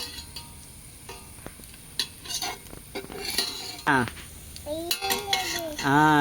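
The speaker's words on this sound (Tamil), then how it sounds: "எந்திரிச்சு நின்று கிளறுமா." Chicken biryani being stirred in a pot, with scattered scrapes and clinks of a spoon against metal beneath nearby talk and a voice.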